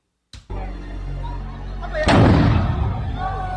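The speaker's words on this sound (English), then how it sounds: "I hope ain't nobody get killed in this explosion, man." An explosion in a played video: a sharp blast bursts out, a short lull follows, then a second heavy boom swells into a loud, sustained roar.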